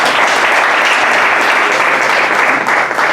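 A church audience applauding a music group at a Bible institute certification ceremony, with dense, loud, sustained clapping from a crowd that fills the whole moment without letup.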